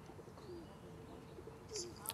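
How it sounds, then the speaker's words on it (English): Pigeons coo softly in a few low, drawn-out calls against a faint outdoor hum, distant and quiet, with a brief higher chirp near the end. "The pigeons fly out,"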